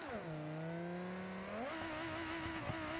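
Car fitted with two nitrous bottles in BeamNG accelerating hard, a loud rising engine drone that climbs in pitch, shifts once, then keeps pulling steadily close up, with no talk over it.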